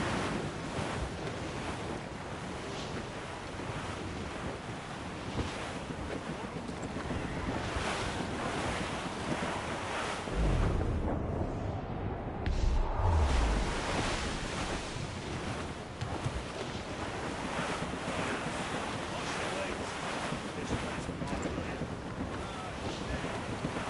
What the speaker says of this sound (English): Careful! It's quite a rough squall, Cap.